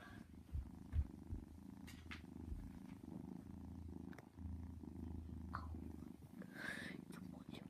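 A female house cat purrs close by, a low, continuous rumbling drone that holds steady throughout, with a few faint thumps and soft background sounds around it.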